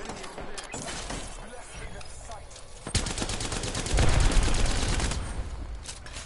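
Rapid video game gunfire in a multiplayer shooter match, dense bursts of shots that grow louder and heavier toward the end, with players talking over the action.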